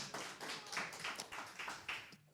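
An audience at a National Assembly event claps in a brief, faint, uneven burst of applause with no talk over it.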